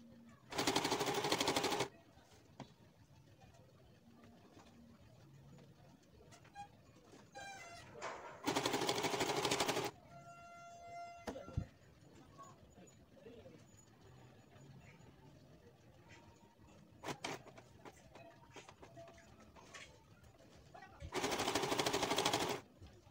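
A sewing machine stitches fabric for a hijab in three loud, steady bursts of rapid mechanical chatter, separated by quieter stretches of handling, faint clicks and a brief ratcheting sound.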